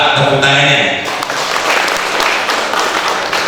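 Applause from the audience at an installation ceremony for a Tegal city pencak silat association board, a voice heard briefly at the start before loud clapping fills the rest.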